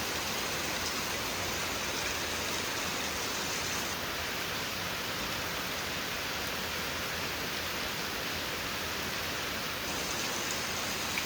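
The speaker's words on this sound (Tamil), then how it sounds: "பார்த்தீங்களா, நல்ல மழை பெஞ்சிட்ருக்கு." Heavy rain falls on a home in Kerala, India, in a constant, even roar that fills the scene from start to finish, with no voices.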